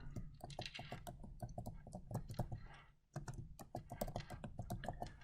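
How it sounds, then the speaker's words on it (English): Quick bursts of keystrokes on a computer keyboard as a folder name is typed, close and fairly quiet, a brief pause midway before the rapid clicking resumes. "Type in the name of the new folder that I want"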